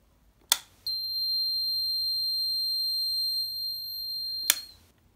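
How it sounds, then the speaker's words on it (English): A plug-in electrical socket tester in a UK wall socket sounds one continuous high-pitched beep lasting several seconds, framed by sharp clicks as it goes in and comes out. "plug in the socket tester to make sure that this socket is wired up correctly"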